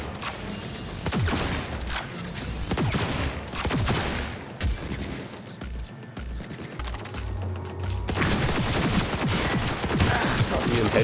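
Gunfire in the video game Cyberpunk 2077 cracks in fast loud bursts and volleys, with mechanical clatter between shots and a brief lull before the firing resumes heavily.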